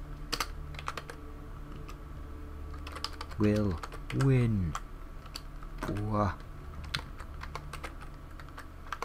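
Soft, irregular clicks of typing on a computer keyboard run quietly through the whole stretch, with someone speaking a few short phrases over them.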